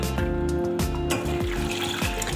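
Water is poured steadily into a frying pan holding mangoes for aam panna, a continuous close splashing fill with a faint hum behind it.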